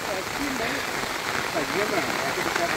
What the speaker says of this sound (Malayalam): നല്ല ഒരു ആംബിയൻസും നല്ല മഴയും